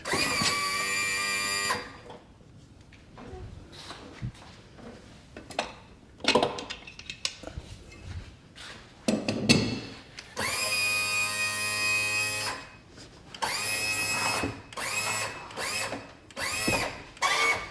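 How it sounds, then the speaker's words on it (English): Work on the lower unit of a Mercury ProXS outboard, with hand tools loosening its bottom drain plug: clicking ratchet-like bursts and metallic scrapes alternate with quieter gaps, close and fairly loud, with no talking. "we're going to loosen this bottom drain plug"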